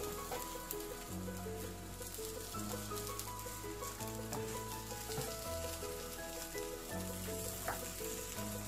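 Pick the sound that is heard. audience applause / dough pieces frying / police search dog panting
dough pieces frying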